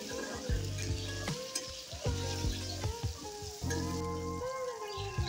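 Eggplant and potato pieces sizzle steadily in hot oil. A spatula scrapes and stirs them in the pan with repeated close knocks and scuffs, and no one speaks.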